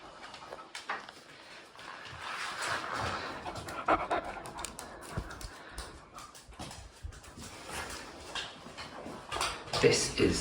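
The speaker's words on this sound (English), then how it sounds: "Why is there a spaniel in the way?" A spaniel pants close by in quick, steady breaths that continue throughout, with faint background clatter.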